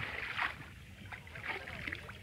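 A rowboat moves through floodwater over a flooded village road, with soft splashing and water movement continuing throughout at moderate, close level.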